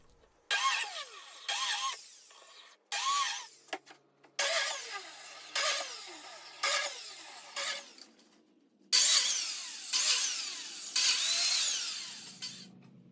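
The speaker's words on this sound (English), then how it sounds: "I'll move the biscuit joiner and cut those slots 1/4 inch lower." Biscuit joiner cutting slots in red oak, a series of about eight sharp whining bursts, each spinning up, plunging in and winding down with short pauses between, close and loud with no talk.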